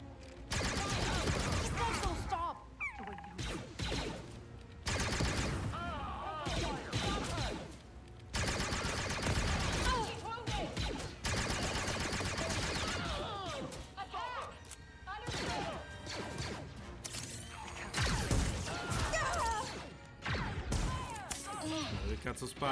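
Blaster fire in Star Wars Outlaws, repeated bursts of shots and impacts across a busy firefight, broken by brief lulls, with a voice talking over the action.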